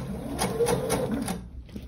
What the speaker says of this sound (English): Do a few more stitches,